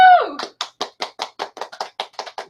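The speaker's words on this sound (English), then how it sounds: "Round of applause." A small group claps in a brisk, evenly spaced round of applause, close and clear, following a short exclamation in an online writing get-together.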